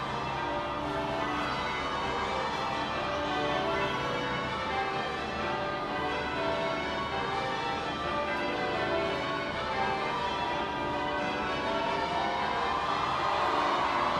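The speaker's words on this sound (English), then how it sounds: "The bells of Westminster Abbey ring out as Prince William arrives for his wedding service." Church bells of Westminster Abbey ring out during a royal wedding, a dense continuous peal heard at a distance and blended with crowd and ambient noise.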